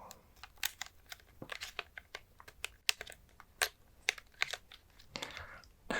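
Buttons clicked rapidly on an old PlayStation 2 controller, a close, irregular patter of sharp plastic taps with brief pauses.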